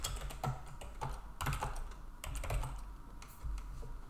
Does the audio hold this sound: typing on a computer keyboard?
yes